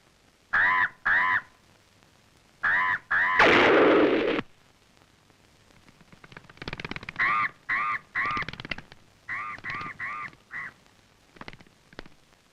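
Crows caw in repeated harsh bursts, mostly in pairs and quick runs of three or four, close and loud against a quiet background, with a brief burst of noise early on.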